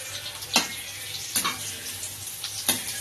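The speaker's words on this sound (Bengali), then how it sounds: "এরকম ভাবেই ভাজা হবে আস্তে আস্তে, এটা জোর করে ভাজলে হবে না, করলা ভাজাটা একটু সময় লাগে" Bitter gourd (karela) frying slowly in a covered pan, giving a soft, steady low sizzle with three faint clicks or taps spaced about a second apart, no voices.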